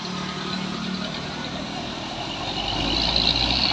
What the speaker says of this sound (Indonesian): Truk-truk pengangkut sayur sudah mulai ramai.